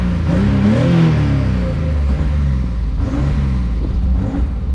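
A BMW E30 engine is held at light throttle of about 10 to 20 percent, giving a steady, loud, close drone that wavers slightly in pitch as the revs hunt up and down.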